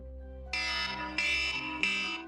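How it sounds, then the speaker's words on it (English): Loud electronic wake-up alarm tone playing in three long repeated bursts, harsh and buzzing like a fire alarm, with a steady low hum underneath and no talking. "I'll put on the obnoxious, your place is about to blow up alarm"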